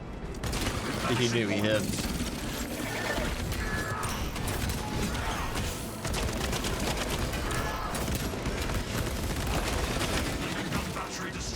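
A tarantula sentry gun fires in Space Marine 2: a dense, continuous roar of automatic gunfire with mechanical clatter and ratcheting, steady and loud throughout, with a voice speaking over it.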